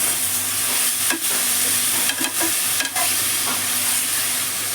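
Half a kilo of mutton being mixed in a pot for gongura mutton, with a steady sizzle underneath and a few soft scraping stir strokes at irregular intervals, close and fairly loud with no talking.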